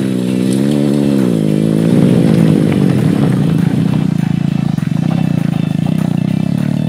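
A BMW motorcycle rides off-road in enduro mode, its engine droning steadily and loudly throughout, with the pitch rising and falling as the throttle changes and gravel clattering underneath.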